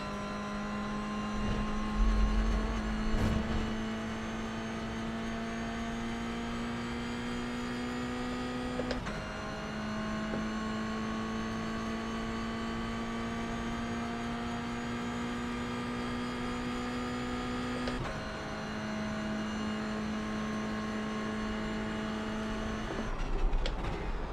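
Race cars in the iRacing sim game, a steady droning engine whine that holds level, shifting pitch a few times as gears change, with no talk.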